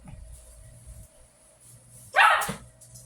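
A dog barks once nearby during indoor crafting of a tree fairy house, a brief sharp yelp against quiet background.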